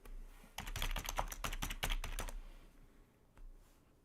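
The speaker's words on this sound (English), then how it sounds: "Oh, I'm typing in the wrong area." Rapid typing on a computer keyboard, a burst of crisp key clicks over about two seconds, then a pause and a single later tap, close and fairly quiet with no talking.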